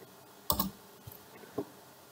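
A few quick keystrokes on a computer keyboard as a command is typed into CAD software: a louder cluster of clicks, then two softer isolated taps, close and clear in a quiet room.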